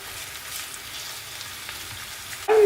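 Chicken pieces frying with onions in a pan, a steady soft sizzle running throughout at low level, ending in a brief louder scrape or clatter.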